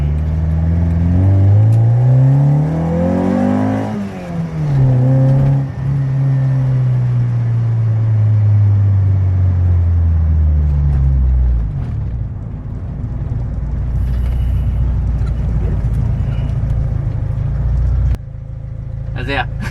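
A Honda Civic EK engine revs up and down while driving, rising and falling in pitch before settling into a steady low rumble near the microphone, with a brief click near the end.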